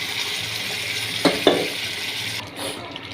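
Water is poured into a pan of frying duck skin curry with potatoes, and a loud hiss and sizzle fills the background. A couple of sharp utensil knocks sound, then the sizzle briefly quiets and changes as the water goes in.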